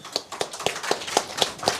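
Steady, evenly spaced claps ring out as a round of applause for the panelists closes a press conference, sounding like only a few hands clapping in a brisk, regular rhythm.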